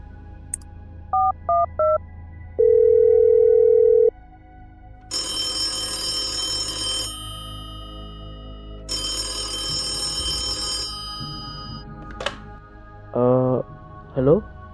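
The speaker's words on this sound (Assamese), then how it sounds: "মই ফোন এটা কৰি আহি আছোঁ ৰ'বা।" Telephone sounds in a radio drama: a short series of dialing tones, then a long steady tone, followed by two loud bursts of an electric bell ring, with brief voices near the end.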